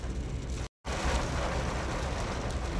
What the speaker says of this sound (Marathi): इथे आम्हाला लागला पाऊस. बराच चांगलाच पाऊस आहे.